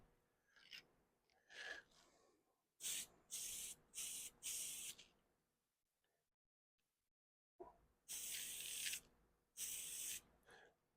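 Aerosol copper gasket spray applied to a Rotax 185 engine block in close, loud hissing bursts, several short sprays in a row, a pause of near silence, then two more bursts, with faint handling noise before them.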